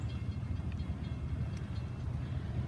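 Amtrak 97, a passenger train, rolling down the track as a steady low rumble that holds evenly throughout, heard from a moderate distance.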